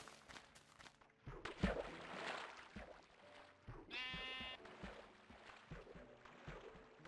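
Sheep in Minecraft letting out a short bleat mid-clip among steady game footsteps and ambient noise, moderately loud and close.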